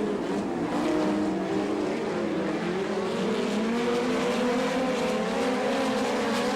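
USAC National Sprint Cars roar around the Attica, Ohio dirt oval during the Buckeye Nationals, a loud, continuous pack of high-revving engines with wavering pitch as cars run close together.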